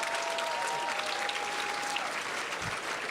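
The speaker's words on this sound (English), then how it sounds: "Please give yourselves a huge round of applause." A large audience claps at a speaker event, a thick, sustained roar of applause with a faint steady tone running through its first two seconds and a low thump near the end.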